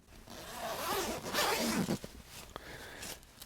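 A zipper on the inner door of a Luxe Minipeak 2 tent, drawn in one long, close, rasping pull, followed by a few shorter tugs and clicks.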